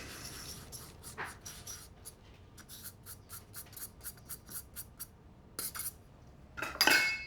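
Dry seeded-loaf bread ingredients, including walnuts and baking powder, being mixed in a bowl, heard as a series of quick rhythmic scraping and tapping strokes, close and light, louder near the end, without talking.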